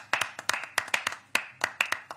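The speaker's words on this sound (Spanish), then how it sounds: "Claro, fuerte aplauso." Sparse, uneven hand clapping from a small number of people, crisp individual claps in an irregular rhythm, fairly close.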